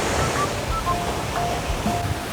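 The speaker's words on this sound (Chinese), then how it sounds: "大家听着海浪的声音，是不是觉得很放松啊？" Sea waves wash onto the beach at Kamakura, Japan in a steady, close surf roar, with wind noise buffeting over it and no talk.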